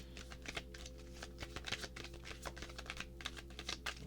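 A Moonology oracle card deck is shuffled close by, with soft flicking and tapping card sounds in an uneven patter and no talking.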